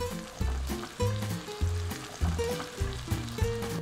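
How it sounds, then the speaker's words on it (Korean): Bacon and firm vegetables stir-frying in a pan, a steady sizzle broken by regular rhythmic thumps and scrapes of stirring, close and fairly loud with no talk. "익는데 시간이 오래 걸리는 단단한 채소들 먼저 볶아주는데요"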